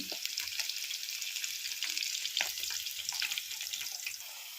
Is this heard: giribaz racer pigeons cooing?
no